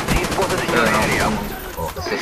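Gunfire in Call of Duty: Black Ops, a fast dense burst of shots and battle noise running through the whole moment with dense in-game sound effects, loud and close.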